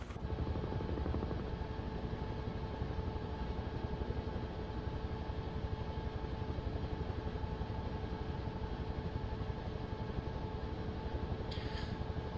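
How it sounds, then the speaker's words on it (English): A helicopter is heard from inside, its rotor and engine giving a steady, loud, continuous drone throughout with no talk. "let's jump back in the copter"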